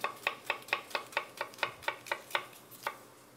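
A knife chops an onion in a crosshatch on a cutting board for a Coca-Cola BBQ sauce, a steady run of about a dozen crisp, evenly spaced knocks heard up close with no talking.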